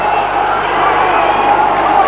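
A rugby match crowd gives a steady, loud roar of voices and cheering that holds without a break while a commentator talks over it.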